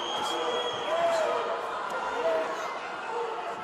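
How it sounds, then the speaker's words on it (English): Arena crowd at a live fight event, steady dense roar of shouting and chatter throughout, swelling briefly at moments, with some voices standing out above the mass. "The crowd's barking at him."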